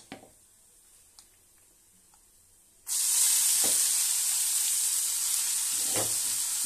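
Amaranth leaves (totakura) hit a hot pan and burst into a loud, steady sizzle after a few quiet seconds with small taps, the frying continuing strongly with occasional stirring knocks.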